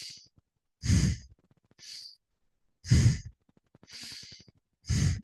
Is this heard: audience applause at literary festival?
no